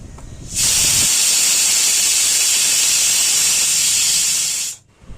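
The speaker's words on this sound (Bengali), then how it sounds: "প্রেসারে সিটি দিয়ে একেবারে ডালটা সেদ্ধ করে নিলাম" A pressure cooker boiling dal lets out one sustained, loud, hissing steam whistle lasting about four seconds, then cuts off abruptly into quiet.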